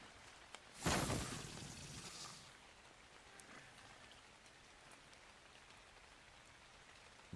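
Rain falls steadily in the survival game Ark: Survival Ascended, a constant soft hiss of drops with a brief louder whooshing burst near the start, no voices.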